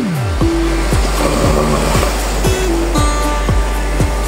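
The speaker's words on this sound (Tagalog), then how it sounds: "Ayan, lumakas na yung mga alon." Steady roar of strengthening sea waves on a rough sea, washing in continuously, loud and close, with no voices.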